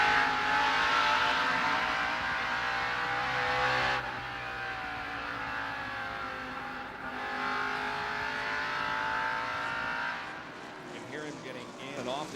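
NASCAR Winston Cup stock cars race at the 1989 Valleydale Meats 500, their engines making a continuous loud, droning roar with shifting pitch as cars pass. A commentator talks steadily over the racket.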